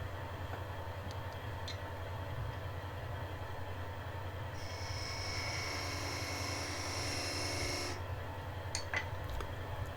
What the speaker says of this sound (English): finish turning that bead using a 3/8 inch spindle gouge